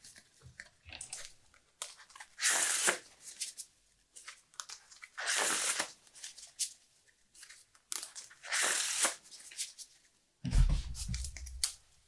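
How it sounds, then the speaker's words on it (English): A deck of Flesh and Blood trading cards is shuffled close up in several bursts of riffling, crisp rapid flutters separated by short pauses, with a soft thump near the end. "I will shuffle my deck."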